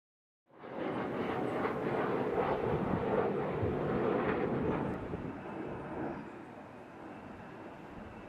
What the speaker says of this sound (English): these are just planes that are coming in to Venezuela